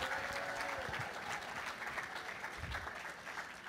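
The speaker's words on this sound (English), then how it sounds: "Let's give her a round of applause." Audience applause at a live event honoring a 15-year-old delegate, a steady wash of many hands clapping throughout, moderately distant and quiet, with faint voices mixed in.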